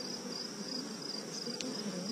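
Bees hum inside an open beehive as a steady, close drone with no voices.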